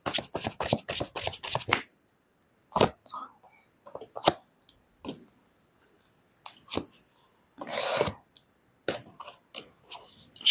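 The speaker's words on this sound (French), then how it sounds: "Je vais tirer d'autres cartes là-dessus." Oracle cards being shuffled and drawn: a quick run of crisp riffling flutters, then scattered soft slaps and flicks of cards handled close up, with some quiet gaps in between.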